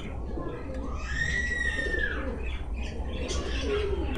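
Pakistani high-flying pigeons in a loft, giving a rolling coo and some squawks close by, with steady background noise and someone talking.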